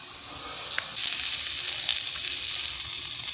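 King oyster mushrooms, cross-cut and cooking in oil in a pan, give off a steady bright sizzle with a few sharper pops rising above it.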